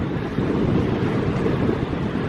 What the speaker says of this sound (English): Oh, it's a bit windy round this other side here.